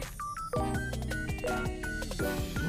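Phone dialing and ringing tones during a call placed inside an online taxi, with a string of clear electronic beeps and tones running steadily throughout, no talking.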